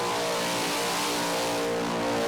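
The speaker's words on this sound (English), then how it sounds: "This is a huge skid, though, from Mr. Bad Q himself, Ross Heasley." A car does a huge skid at the Summernats 30 car festival, with a steady, loud engine roar held at high revs throughout and no talk.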